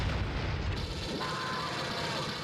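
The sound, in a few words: Predator wrist blade secondary fire in video game AVP Classic 2000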